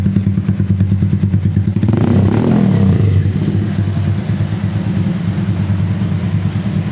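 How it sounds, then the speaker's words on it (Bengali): A Dayun 125cc motorcycle modified into a cafe racer idles close by, its engine putting out a steady low, pulsing rumble with a brief swell in revs near the start before settling back to an even idle. "ইঞ্জিনের সাউন্ড চেক করার জন্য এখানে হাত দিতে হবে"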